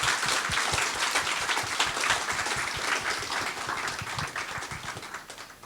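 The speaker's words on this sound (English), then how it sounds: "Please join me in giving another round of big applause." Audience applause at a tech conference awards ceremony, dense continuous clapping from a large hall crowd that starts strong and slowly tapers off, with no talk over it.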